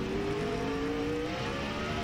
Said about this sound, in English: you might be able to hear the engine when he stands on it. Hear that?